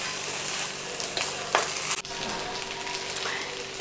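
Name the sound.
stirring rice with sugar in a frying pan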